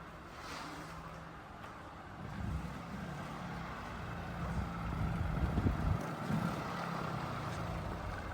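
A 2018 Ford Fiesta reverses slowly, producing a low, steady engine rumble that swells a little midway, heard close under light wind noise with no talking.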